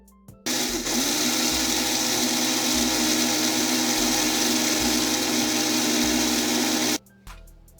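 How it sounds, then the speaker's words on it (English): A blender grinds brown rice coarsely for a body scrub, starting abruptly, running as one loud, steady whirring burst for about six seconds, then cutting off. "The first thing you want to do is to grind your rice."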